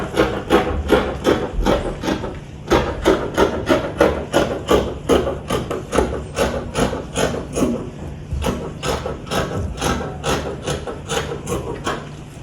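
Scissors snip steadily through fabric for a 720-degree circle skirt, close, crisp, rapid cuts in a regular rhythm with brief pauses.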